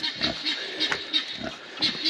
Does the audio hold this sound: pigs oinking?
yes